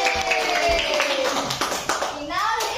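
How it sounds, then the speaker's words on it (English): A group of children gives a short rhythmic cheer clap in a classroom, with bursts of hand claps mixed with young voices and chatter. "Barangay clap for everyone."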